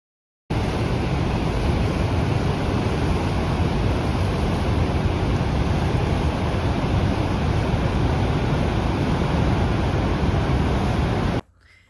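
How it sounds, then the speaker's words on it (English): The roaring water of Niagara Falls pours as a steady, loud, broadband rush that starts abruptly and continues unbroken for about eleven seconds before cutting off, with no voices. "But nothing can compare you for the beautiful sound, the roaring water."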